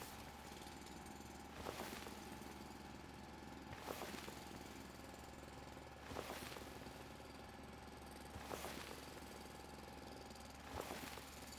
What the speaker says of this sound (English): I'm really glad that this this drill doesn't have like fuel or durability.